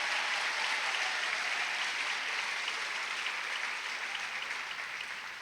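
Sustained applause from a large graduation audience in an indoor hall honoring eighth-grade students, dense steady clapping that slowly fades toward the end.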